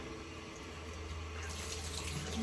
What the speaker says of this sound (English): Rinse out your rag.